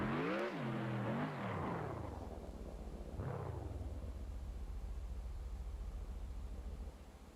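A car engine revs up and drops twice, then settles into a low, steady exhaust burble that trails off near the end.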